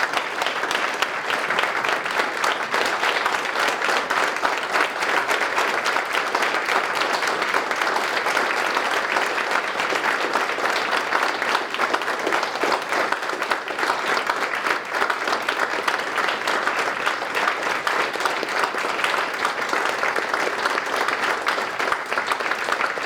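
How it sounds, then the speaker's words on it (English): Steady, loud applause from a large breakfast audience honoring Merrill's Marauders veterans, continuous clapping that holds evenly throughout without pause. "Please join me in a round of applause for our guests of honor this morning"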